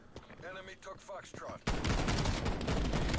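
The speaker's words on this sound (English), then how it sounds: "So I finally have the shotgun by myself." A shotgun fires in Call of Duty: Black Ops Cold War, loud dense blasts and gunfire bursting in after a short stretch of voice, continuing for over a second with heavy layered shots.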